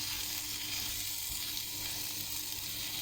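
Balochi chicken tikka sizzling in a karahi, a steady dense hiss of frying with a faint low hum underneath, continuous and close with no talking.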